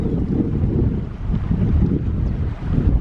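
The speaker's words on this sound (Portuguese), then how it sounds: "Vento começando agora de novo, cada vez está mais forte." Strong wind blows outdoors in Argentina beside a Kombi van, a steady loud roar buffeting the microphone with gusty surges throughout and no voices.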